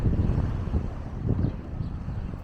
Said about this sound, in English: Very windy around here